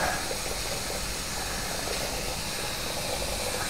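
Steady, loud hiss of escaping steam from a toy live steam engine in a generator-room diorama, continuous and unbroken with no voices.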